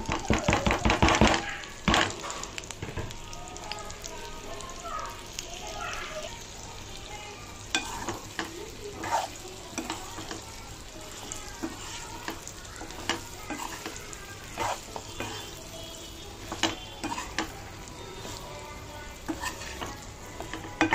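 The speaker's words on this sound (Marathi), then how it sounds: "जी भेंडी आपण मिक्स करून ठेवली होती ती थोडी फ्राय करून वाफेवर शिजू द्यायची 2-4 मिनिटं" Okra (bhindi) frying in hot oil in a kadhai for Jain masala bhindi, a continuous sizzle broken by irregular stirring scrapes and clanks of the spoon against the pan, close and fairly loud.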